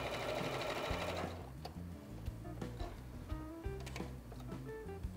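A sewing machine runs a straight seam with a steady, close mechanical whir. The whir then slows into rhythmic ticking stitches.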